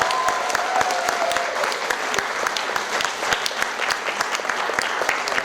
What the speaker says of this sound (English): I think that deserves a much bigger applause.